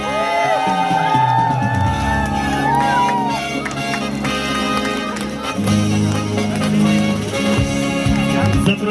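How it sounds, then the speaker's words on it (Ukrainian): Outdoor crowd applauding and cheering for an award winner at a town New Year tree lighting ceremony, continuous clapping and whoops blended with loud festive music playing throughout. "А ми підтримуємо оплесками"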